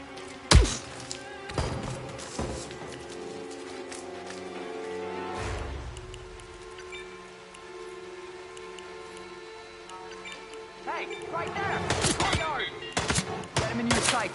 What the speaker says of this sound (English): Pull that trigger, Jen.